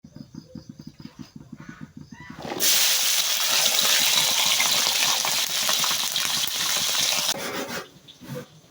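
Green chilies cooking with tempeh in a hot pan, a loud sustained sizzle and scraping stir lasting about five seconds after a few light clinks, then dying back.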